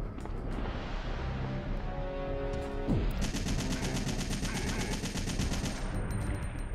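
Rapid automatic gunfire in the classic Resident Evil 3 game, rattling bursts of shots with a sharp pause and resumed firing, accompanied by musical tones from the game.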